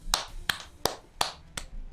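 Five sharp hand claps spaced roughly every third of a second, close and fairly loud, heard alone without speech during a tabletop role-playing game session.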